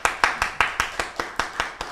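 A congregation at a Korean Sunday church service claps for the visiting pastor, about ten sharp claps in a steady, even rhythm, close and distinct, with no talking over them.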